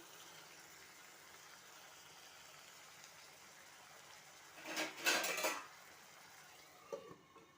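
A lid is set down on a pot of Nellore-style egg curry, making a short metallic clatter midway through an otherwise quiet kitchen, followed by a faint clink a moment later.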